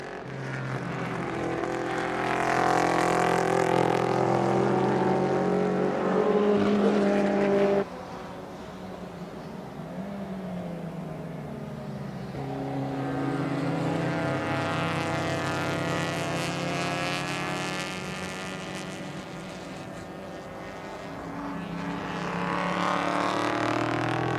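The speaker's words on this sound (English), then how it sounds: "Joey Esma, 57A in the Datsun 2000, starting to lose touch with that lead, those three at the front" Vintage race cars, including a Datsun 2000, racing in an SVRA event at Indianapolis: loud, high engine notes rising and falling as cars pass, with one roar dropping away before more cars arrive.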